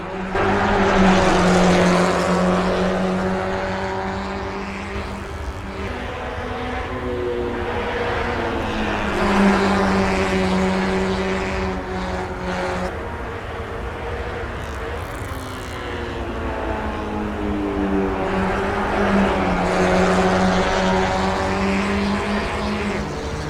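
A race car engine roars steadily from outside in a racing video game, rising and falling in pitch as it shifts gears and cycles through revs.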